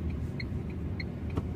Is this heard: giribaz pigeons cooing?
no